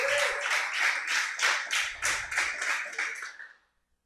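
A church congregation claps together in a steady rhythmic beat of about ten claps, fairly close and full, before the clapping stops abruptly into silence.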